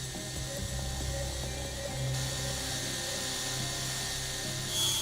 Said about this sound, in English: Nope, we're drilling.